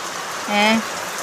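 Rain falls steadily in a farming village, a constant soft hiss throughout, with a brief tonal sound, like a voice or animal call, rising over it midway.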